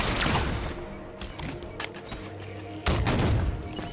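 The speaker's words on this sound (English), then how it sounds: "I have to immediately throw a grenade." Grenade throws and gunfire in the video game Halo 5: Guardians during a cooperative Legendary campaign, a dense busy battle texture with thumps and bursts that swell again near the end.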